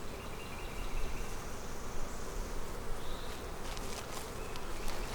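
Honey bees buzzing densely around an opened hive while ants are cleared from a moldy pollen patty, a loud, close, continuous swarm drone with some faint handling noises.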